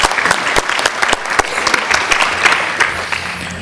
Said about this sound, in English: I'd like to suggest that we have another round of applause for our panel and all the panels today